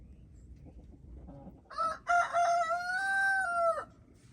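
Chickens in a backyard: after a quiet stretch of low rumbling, one bird lets out a loud, drawn-out crowing call lasting about two seconds, then stops.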